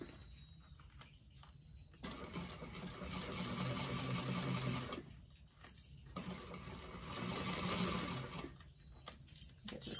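Sewing machine stitching around a bag, running in long steady bursts with brief pauses between runs, close and fairly quiet.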